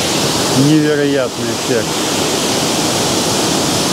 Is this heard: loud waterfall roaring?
yes